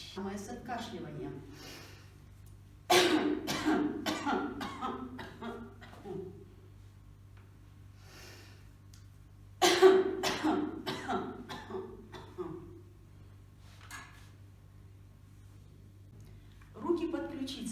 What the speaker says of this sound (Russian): Самое с откашливанием.